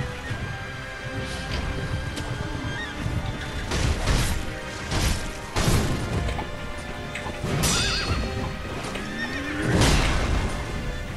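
Horses whinny several times over galloping hooves and crashing impacts in the video game Sekiro: Shadows Die Twice, loud and close, with no talking.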